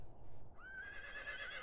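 A horse whinnies in the medieval farming game Medieval Dynasty. One long, rising-then-wavering neigh starts partway through and carries to the end over a low background hum, with no talk.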